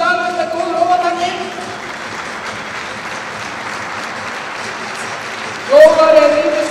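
An audience at an Icelandic horse event claps steadily for the horse Glóðar from Reykjavík, a broad wash of applause with voices speaking over it at the start and end.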